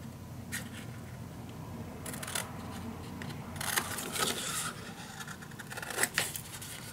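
Scissors snip through paper while an accordion-fold page is cut for a scrapbook, giving a few faint, scattered crisp cuts and rustles against a quiet room hum, no talking.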